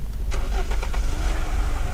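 A car engine in the video game Unturned cranks and catches, then settles into a rough, rumbling idle close by.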